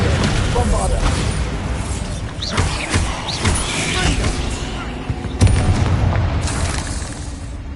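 Bombarda explosion spell in Hogwarts Legacy, a loud booming blast with crashing debris, followed by further thuds and a sharp impact later on, over steady game ambience.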